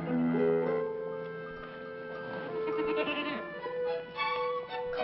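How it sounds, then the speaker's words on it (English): A goat bleats repeatedly in a long wavering cry, loud and close, with several bleats overlapping across the whole stretch, outdoors in a mountain pasture setting. "Come on, you silly goat."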